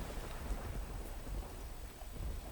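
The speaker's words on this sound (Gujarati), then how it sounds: "વરસાદ વરસી રહ્યો છે એ પરિસ્થિતિ" Heavy rain pours down steadily in a dense, even wash of noise with a low rumbling undertone, no voices over it.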